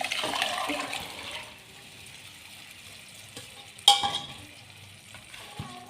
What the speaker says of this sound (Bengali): নেড়ে চেড়ে আমি মিশিয়ে নিচ্ছি